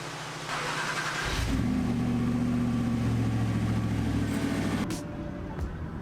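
Gen1 Audi R8 V8 Spyder engine cranking and catching after sitting without a trickle charger, then settling into a steady loud idle close to the mic with no talking.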